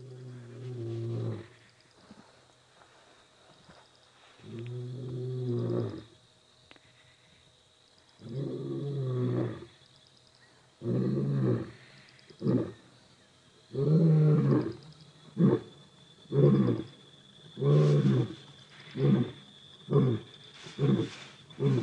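Wild lions roaring during a sunset safari drive, a series of deep, loud, resonant roars building into shorter rhythmic grunting calls that repeat steadily and close by, with no talk over them.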